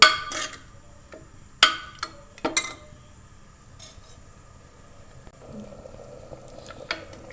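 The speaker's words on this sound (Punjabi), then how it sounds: "2 ਕੁ ਮਿੰਟ ਆਪਾਂ ਪਨੀਰ ਨੂੰ ਸੇਕ ਲਵਾ ਦਿੰਨੇ ਜੀ" Paneer roasting in a pan for hara choliya paneer gives a faint, steady sizzle broken by several sharp clinks of a utensil against the pan.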